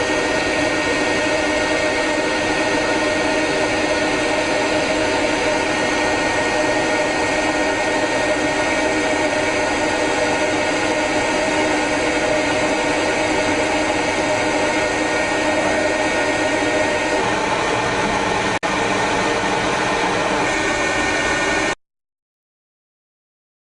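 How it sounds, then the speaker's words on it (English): Compressed air blasts dust off a freshly printed 3D part from a Dimension 1200 rapid prototyping machine, a loud, steady broadband hiss running continuously for about twenty seconds before cutting off abruptly. "So I'm going to blow this off, clean up the part, and get ready for infiltration."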